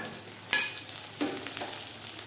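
Onions frying in a pan until lightly browned, ahead of an onion-garlic-ginger paste for Bengali chicken ghugni, with a steady sizzle, a sharp clatter of stirring near the start and another scrape midway.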